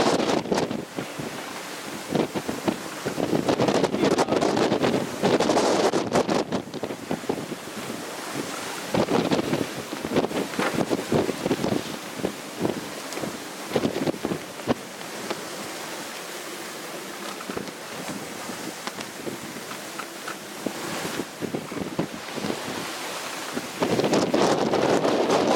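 Gusty wind buffets the microphone while choppy, rough ocean water slaps and surges around a sailboat under way in foggy conditions with a small craft warning, the bursts rising and falling loud and near.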